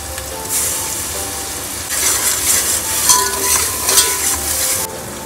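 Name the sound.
ginger garlic paste added to frying browned onions, stirred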